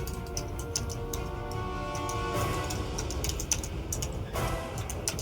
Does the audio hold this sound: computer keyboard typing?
yes